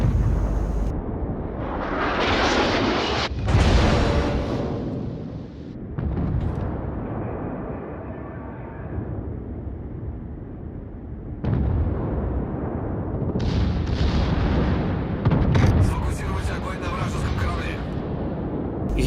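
Naval gunfire in a warship video game as guns shell an enemy ship from behind island cover, with repeated booming salvos and explosions mixed under steady talking.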